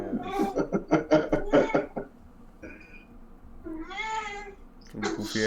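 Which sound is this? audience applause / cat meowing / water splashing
cat meowing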